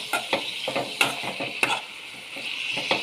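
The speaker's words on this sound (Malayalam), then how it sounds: "നന്നായി ഇളക്കി കൊടുക്കാം." Prawns frying in a pan while being stirred for a Kerala-style prawn theeyal, with a steady sizzle broken by repeated scraping, clinking stir strokes at close range, no talking.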